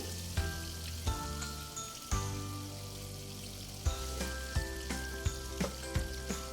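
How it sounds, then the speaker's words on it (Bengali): Pumpkin pieces being lightly sautéed in oil in a pan for a Bengali ilish fish curry with eggplant give off a quiet, steady sizzle, with several sharp clinks and taps spaced through it. "খুব বেশি ভাজার দরকার নেই একটু সাঁতলিয়ে নেব"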